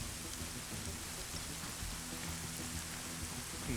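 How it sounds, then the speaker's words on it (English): Steady rain patters in a video game, even and unbroken at a low, constant level, with no voices or other sounds above it. "The rain's on, so people aren't going to be able to hear footsteps."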